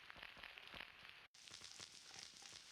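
The Burning Vinyl noise sample from the Pigments factory library plays as a faint, continuous crackle and hiss, like an old record surface, with one brief dropout partway through.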